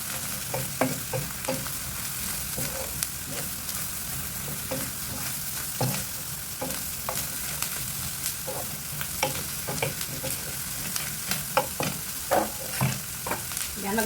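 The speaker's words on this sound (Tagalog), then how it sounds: "igisa-gisa natin yan. Ayan, isabay na natin yung carrots" Vegetables and carrots sauté in a pan with a steady bright sizzle, punctuated by irregular scraping and knocking stir strokes throughout, with no talking.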